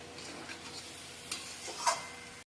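Ribbed gourd (chichinga) cooked with a spice paste fries quietly in a pan, a soft steady sizzle with occasional scrapes and clicks of stirring, moderately close and alone without speech.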